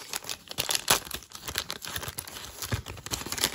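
Plastic hockey card packs from a 1991-92 Score NHL box are torn open by hand, producing quiet, close-up bursts of crinkling and crackling in an irregular rhythm.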